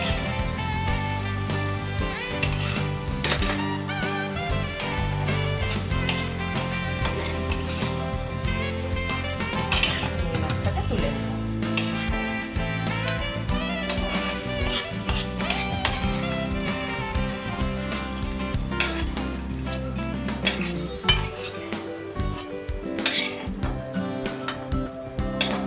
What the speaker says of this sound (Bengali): তো চিংড়ি মাছটা ভাজা হোক, তারপর আমি বাকি রান্নাটা নিয়ে।